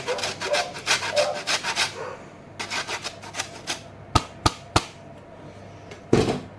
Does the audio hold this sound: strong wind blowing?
no